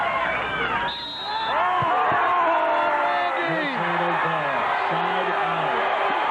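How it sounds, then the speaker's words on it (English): A beach volleyball crowd at the 1997 AVP Dallas Open roars after a long rally, split between booing and cheering, with sustained wavering shouts and whoops that stay loud and dense throughout. "Half the crowd booing, half the crowd cheering."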